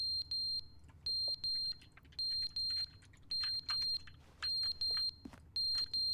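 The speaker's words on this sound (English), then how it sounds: "fire alarm going off" Fire alarm in The Stanley Parable sounding in a steady pattern of loud, sharp electronic beeps in pairs and triplets, repeating over several seconds with no talk.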